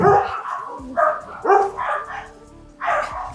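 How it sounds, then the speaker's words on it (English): Dogs bark outside on a stormy night, several loud, uneven barks and yips in a ragged series, fairly close, with no talking over them. "There are more dogs talking."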